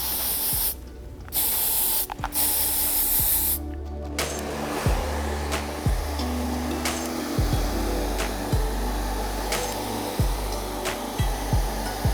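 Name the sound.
hairspray being sprayed on hair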